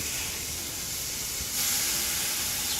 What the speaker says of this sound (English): What you want to do is cook these about 3 minutes per side.